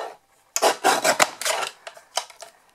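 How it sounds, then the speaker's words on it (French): Small pieces of card being cut for a pop-up card, a close series of dry scraping, rasping cuts in quick succession, then a few softer isolated snips and taps fading out, with no talk. "Je viens encore découper ces petits bouts."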